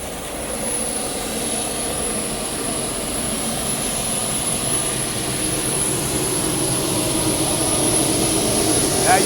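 A DC-9 auxiliary power unit runs loudly and steadily from close below, a continuous jet-like roar with a high whine on top that builds slightly over the stretch.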